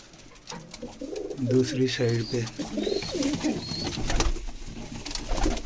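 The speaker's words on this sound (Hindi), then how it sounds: "वो लक्का कबूतर जो है ना, उसको पकड़ते हैं और उसको निकालते हैं बाहर" A fantail pigeon coos in soft, repeated low warbles close by while someone speaks over it.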